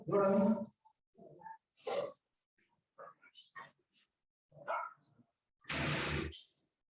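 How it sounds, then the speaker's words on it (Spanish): Dogs barking at people passing by, several sharp bursts spaced apart with pauses between, fairly close and loud, with no talk over them. "Los perros, cuando pasa gente, los perros ladran y no nos dejan dar clase."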